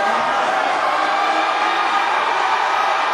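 Crowd at a high school basketball game, a steady, dense roar of many voices filling the gym, loud and continuous without a break.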